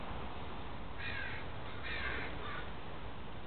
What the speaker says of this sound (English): Nope, just bird noises